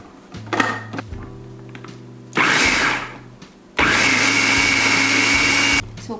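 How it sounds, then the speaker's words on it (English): Kitchen blender whirring through corn chowder in two bursts, a shorter run followed by a longer, louder steady whine after a brief pause, with little else heard. "then blend it all together and add it back to the chowder"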